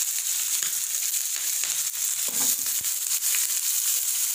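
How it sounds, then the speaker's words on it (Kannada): Sliced onion dropped into hot oil with urad dal and green chillies, a steady bright sizzle of frying throughout with faint stirring, close and continuous. "ಈರುಳ್ಳಿ ಹಾಕ್ಕೊಳ್ತಾ ಇದ್ದೀನಿ."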